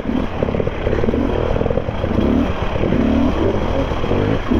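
A 2025 KTM EXC enduro motorcycle being ridden on a fun trail day, its engine droning loud and steady throughout with a continuous rasping buzz and slight shifts in revs, no voices.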